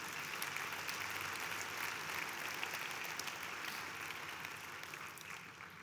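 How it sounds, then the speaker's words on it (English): A large audience at the SingularityU South Africa Summit gives faculty members a steady, continuous round of applause that sounds somewhat distant and muted, holding evenly before tapering slightly. "Let's give them a round of applause"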